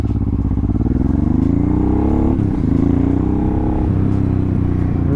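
Honda Transalp supermoto motorcycle, about 24 years old, accelerating hard up close: a loud, rough engine drone climbing in pitch through gear changes, with rattling mechanical clatter and no talking.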